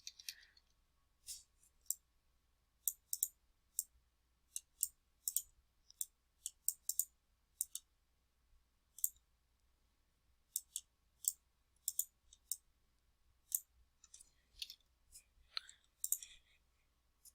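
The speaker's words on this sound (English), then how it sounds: "I'm using my arrow keys" Computer keyboard arrow keys tapped in scattered single clicks and quick pairs, crisp and close in an otherwise quiet room, with a soft voice murmuring once near the end.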